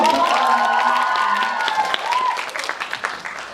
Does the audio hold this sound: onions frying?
no